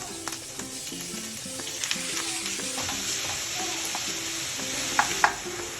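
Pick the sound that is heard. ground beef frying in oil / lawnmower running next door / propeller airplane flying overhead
ground beef frying in oil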